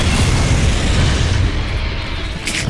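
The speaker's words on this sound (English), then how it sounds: "Rockets are away!" Rockets launched and exploding in the shooter game Gears of War 4, a loud sustained blast and roar that fills the whole stretch and fades slightly at the end.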